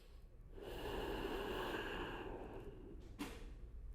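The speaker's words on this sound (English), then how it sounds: "just start to slow your breathing through your nose" Slow inhale through the nose during a power yoga class on a mat, a soft, close breath that swells and holds for a couple of seconds, then a brief sharper sniff near the end.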